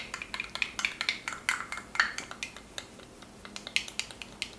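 Salad dressing with brown mustard whisked in a bowl, a quick run of light clinking taps and scrapes of utensil against the bowl, close and fairly quiet.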